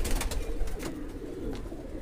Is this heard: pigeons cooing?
yes